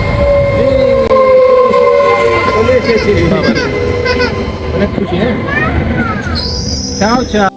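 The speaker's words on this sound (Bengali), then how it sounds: "আমাদের ট্রেন চলে এসেছে" A train pulls into a station in the mountainous Belluno area of Italy with a heavy rumble, screeching wheels and horn blasts, while people talk close by over the noise.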